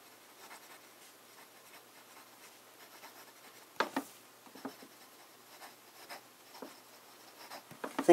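A fountain pen with a wet medium nib writes on paper in blue ink, producing faint, close scratches with occasional sharper strokes spread across the stretch.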